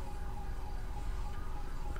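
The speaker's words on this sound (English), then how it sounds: "I can start to hear sirens on the ambulance" An ambulance siren in the GTA 5 video game wails steadily and fairly faint under low rumbling engine noise, with no speech.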